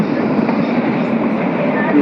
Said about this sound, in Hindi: मतलब ये ट्रेन जो है अभी 10 किलोमीटर पर आवर्स के स्पीड से चल रही है